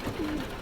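A single brief, soft pigeon coo sounds close against a low background murmur.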